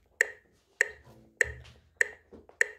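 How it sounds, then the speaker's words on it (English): Metronome clicking steadily at about 100 beats per minute, five sharp, clear ticks evenly spaced and close up, with no talk over them. "Here's our metronome."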